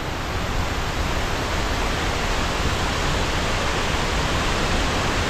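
Bayog Falls, a Philippine waterfall, roaring as a dense, steady broadband rush of falling water, loud and constant throughout with no talking.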